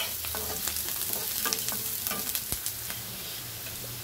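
Onions sautéing in a pan for a buttermilk curry, a dense, loud sizzle with quick, irregular stirring and scraping strokes throughout.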